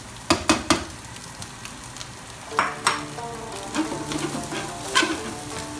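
Basmati rice sizzles and fries in a hot wok for Sichuan fried rice, with a steady crackling hiss punctuated by sharp scraping clacks of stirring, close and without talk.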